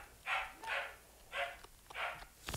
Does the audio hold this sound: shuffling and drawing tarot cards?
no